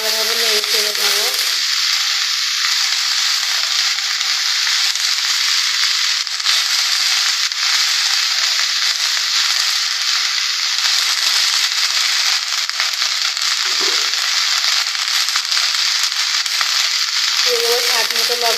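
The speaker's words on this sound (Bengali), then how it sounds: "এবার আমি সজনের ফুলগুলো দিয়ে দেব। সবগুলো উপকরণ দিয়ে আমি ভালোভাবে নেড়ে চেড়ে নেব।" Drumstick flowers stir-frying in a hot pan give off a loud, dense, continuous sizzle and crackle, with occasional scrapes of a spatula turning them, close and unbroken.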